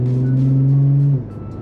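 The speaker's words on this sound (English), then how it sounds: "You can hear the top end of the drone, or the top end of the exhaust when you're getting to those higher RPM" From inside a car with the windows up, the engine and exhaust hold a loud, steady droning tone up to about 4,000 RPM, then drop off abruptly to a quieter idle-like rumble.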